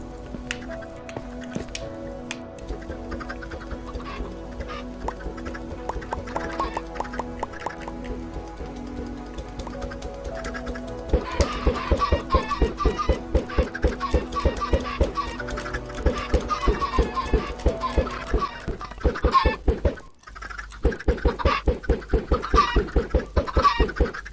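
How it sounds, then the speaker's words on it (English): Chickens in a video game cluck steadily over a repetitive musical backing, growing busier and denser halfway through, with no talking. "there's quite a few chickens in there"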